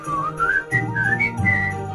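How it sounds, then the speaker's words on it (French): A person whistles a short melody of gliding, rising and falling notes, close and clear, in brief phrases with no talking. "Je le sifflais."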